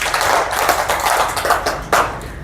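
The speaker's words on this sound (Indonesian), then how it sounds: "tepuk tangan dulu." A class of students applauds group 1 with loud, fast, dense handclaps that continue through the whole moment, with occasional sharper bursts.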